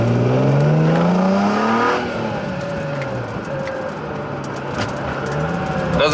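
An Infiniti G35 drift car with a welded differential revs and accelerates from inside the cabin, the engine climbing loudly in rising sweeps before settling into a steadier drone.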